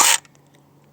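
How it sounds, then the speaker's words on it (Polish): Arcturus AK-12K airsoft replica releasing its compressed spring, a single short, bright metallic snap up close that cuts off abruptly into near silence. "To był dźwięk zrzucania sprężyny."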